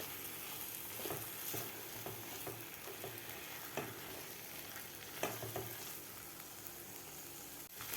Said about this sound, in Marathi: आता भाज्यासुद्धा आपल्याला खालच्या मसाल्यामध्ये एक दोन मिनिट व्यवस्थित परतून घ्यायचे आहेत